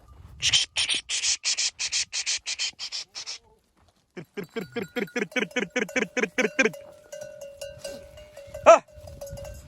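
A flock of sheep bleats in rapid pulsing bursts, close by, with a bell ringing toward the end, at a highland summer pasture.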